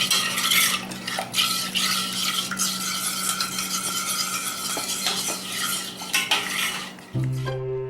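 Utensils stir food in a metal pot, with steady scraping and frequent clinks against the sides under a low kitchen hum, until a brief shift in sound near the end.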